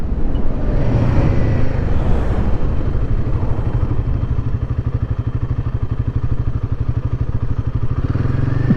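A motorcycle engine runs steadily close by while riding through switchbacks, its rapid pulsing putter loud and continuous throughout, with no talking.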